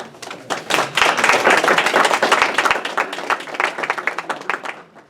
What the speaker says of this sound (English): let's give a round of applause to Dr. Regis, who is our food sponsor today.